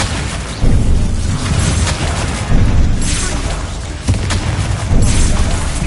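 Loud, close booming blasts from the Bombarda spell in Hogwarts Legacy, several explosive bursts spaced a second or two apart over a dense, rumbling background.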